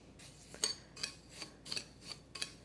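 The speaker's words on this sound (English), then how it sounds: "Stir it up so that all the breadcrumbs are coated with the oil." Panko breadcrumbs being stirred with extra virgin olive oil in a bowl, a utensil scraping in a steady series of gritty rasping strokes, close and fairly quiet.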